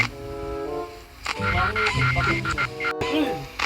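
Cartoonish duck quacks sound amid game music and effects in a Roblox Five Nights at Freddy's game, with a short pause of silence before the noise picks back up.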